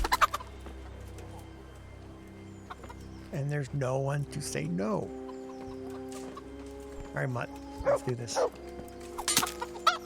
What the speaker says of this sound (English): A cornucopia of chickens.